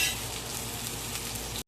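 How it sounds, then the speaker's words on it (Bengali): Eggplant slices frying in a pan of oil give a steady, close, soft sizzle that holds evenly before cutting off abruptly at the end. "বেগুনগুলো ভাজতে দিয়েছি"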